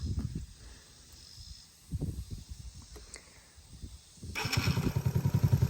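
A YFZ50 ride-on toy quad, a small electric power wheel, takes off at about four seconds with a rising pulsing whine and rattle, loud and close, after quieter scattered handling noises.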